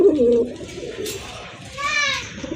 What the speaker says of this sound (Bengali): আরেক জোড়া কবুতর বোম্বাই কবুতর